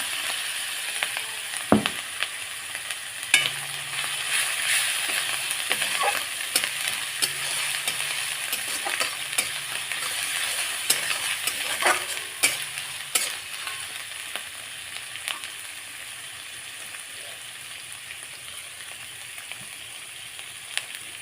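Ginger frying in a pan, a steady loud sizzle lasting throughout, broken by scraping and clacking of a spatula stirring at irregular moments.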